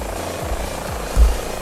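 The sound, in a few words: Airbus H145 helicopter engine running, video game MSFS 2020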